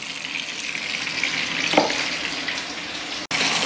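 Pork loin slices fry in a pan with a soft, steady sizzle and a brief scrape as they are moved around, close by, with no talking.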